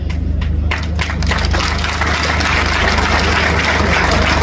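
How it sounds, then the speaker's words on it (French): Sustained applause from a crowd at a Lubumbashi university event, a steady wash of many hands clapping at even loudness throughout. "Applaudissements nourris"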